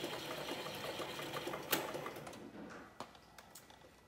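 A Cowboy 3200 sewing machine winding a bobbin, a quiet steady mechanical whir with faint rhythmic clicks and a few sharper ticks as it runs, no voices.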